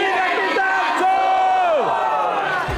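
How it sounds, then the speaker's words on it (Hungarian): Dancing with the Stars cast members let out a huge group cheer together, a loud sustained crowd shout with rising whoops and yells that swell and then trail off. "Egy óriási csapatkiáltással ujjonganak a Dancing with the Stars szereplői"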